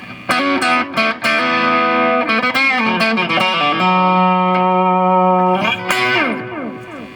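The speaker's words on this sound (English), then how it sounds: "I changed the distortion effect and I added some delay." Distorted electric guitar through a Zoom G1 FOUR effects unit plays sustained chords and notes, each trailing off in delay echoes, with no talking.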